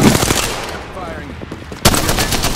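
Machine-gun fire rattles in a video game shooter, dense rapid bursts that are loud and close, easing briefly before another heavy volley, with voices calling out over the shooting.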